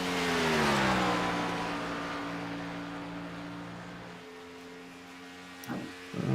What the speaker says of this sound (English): Ooh, car riding up the racetrack